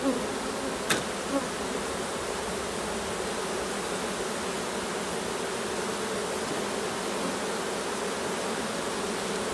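A huge honeybee colony at a large hive hums in a dense, continuous buzz close by, steady and unbroken with a faint click near the start and no talk.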